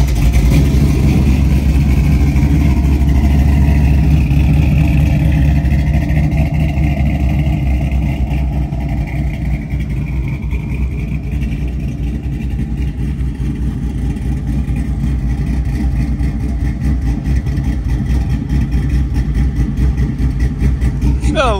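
A car engine starts and settles into a loud, close idle with a slight lope and an uneven beat suggesting a misfire, its rumble holding steady throughout.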